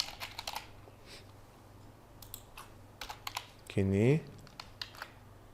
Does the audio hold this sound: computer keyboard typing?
yes